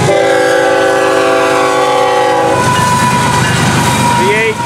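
A Florida East Coast freight train with auto racks up front rumbles past loudly and close, with a sustained horn blast at the start giving way to rolling wheel and rail noise.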